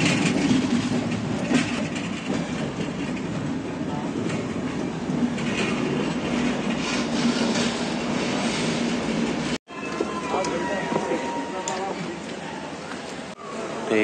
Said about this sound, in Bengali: এই হচ্ছে ট্রেন আর এই হচ্ছে কাচিগুদা স্টেশন